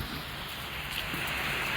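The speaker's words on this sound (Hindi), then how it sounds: "काफ़ी ज़्यादा बारिश हो रही है" Heavy rain pours steadily during a storm in Jammu and Kashmir, a dense, even hiss that runs unbroken throughout with no voices.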